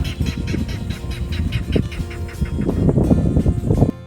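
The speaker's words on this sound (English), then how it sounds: "Clapper rail is the bird you often hear but rarely see in the salt marsh." Clapper rail calling in a salt marsh, a long run of rapid, harsh clacking notes that speed up and grow louder toward the end, set against steady outdoor background noise.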